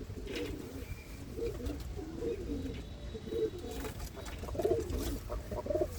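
Racing pigeons coo in a low, soft, repeated burble from close by, with faint background noise and no talk over them.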